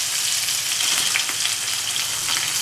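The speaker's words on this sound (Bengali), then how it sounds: "দেখুন তেলটা গরম হয়ে গেছে, দেখুন শুকনো লঙ্কাটা দিয়ে দিয়েছি। এবারে এই সমস্ত আমি ফোড়নে দিচ্ছি।" Dried red chilli, garlic and green chilli sizzle steadily in hot oil for a tempering, with a dense, even crackling hiss throughout and no talk.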